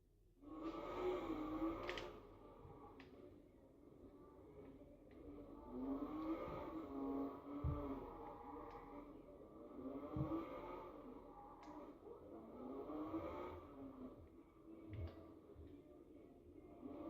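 Lamborghini supercar engine in the Watch Dogs video game, a sustained mid-level drone with rises and falls as it accelerates and revs, a few sharper transient knocks scattered through.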